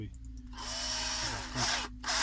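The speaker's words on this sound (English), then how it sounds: "Okay, and get all these screws in the holes" A power driver whirs as screws are driven through the hinge of a Clazzio car seat cover, a steady close-up buzz with a brief pause partway through before it starts again.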